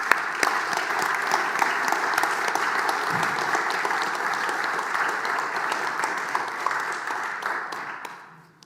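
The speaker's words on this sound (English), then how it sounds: "Can we just give each other a clap?" A church congregation in Hexham applauds together, dense sustained clapping from a full room that holds steady for several seconds before tapering off at the end.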